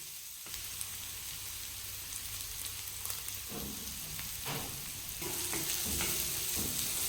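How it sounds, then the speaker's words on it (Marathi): Crushed green chilli thecha fries in hot oil in a pan with onion and curry leaves, a soft, steady hiss with occasional stirring scrapes and brief louder sizzles toward the end. "मग टाकायचं जो ठेचा केला होता तो टाकून चांगला तळून घ्यायचा"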